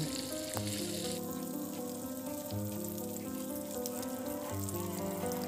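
Minced meat and bread balls fry in a pan with a steady, close sizzle, while a continuous tonal hum and harmonic drone runs beneath the crackle throughout.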